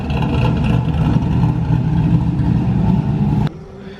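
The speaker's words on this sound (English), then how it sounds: "So we're driving the car on the street right now" A Pontiac Trans Am WS6 with cam, intake and headers drives on the street, its engine note loud and rumbling from inside the car before dropping off abruptly near the end.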